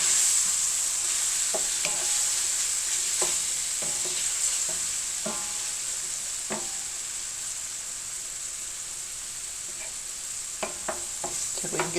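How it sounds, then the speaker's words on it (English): Meat browns in hot lard in a skillet for Irish stew, a steady loud sizzle and fry throughout, with scattered scraping knocks of a utensil stirring the pieces, close up and without talk. "And we've got my lard in the skillet. And we're going to brown it up and get it ready for the soup."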